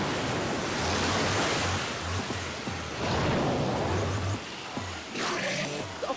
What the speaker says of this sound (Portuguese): Eu não sei quanta água esse treco vai soltar